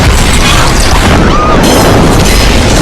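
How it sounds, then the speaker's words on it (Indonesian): A loud, roaring tanker truck explosion fills the whole clip, a dense, distorted boom with crackling debris throughout, close and overwhelming. "bensin mulai bercucuran dan menyebabkan ledakan"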